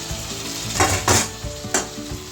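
Chicken pieces fry in a hot pan for a bachelor-style chicken fry, a steady sizzle broken by a few louder bursts of scraping as the pieces are stirred, close and clear with no voices.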